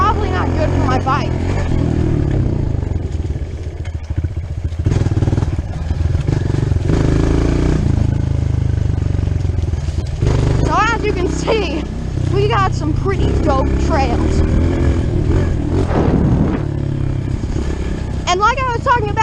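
A dirt bike engine runs steadily close by with a low rumbling drone and occasional revs rising in pitch, while someone talks over it throughout on a trail ride.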